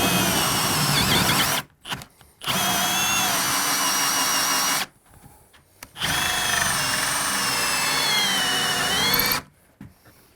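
A power drill fitted with a hole saw bores through a door for a keypad lock, running loud and close in three long sustained whines with brief pauses between them.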